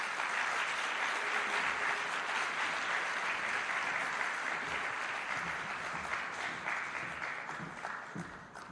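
A crowd at the official launch of the Jamaica Legal Information Portal applauds, steady and full clapping from many hands lasting several seconds before gradually thinning, with a few faint voices mixed in.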